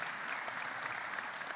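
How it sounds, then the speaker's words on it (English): A conference audience breaks into steady, dense applause, a continuous wash of many hands clapping at even loudness throughout the short stretch. "Great hand of applause, please, to Aki Anastasio."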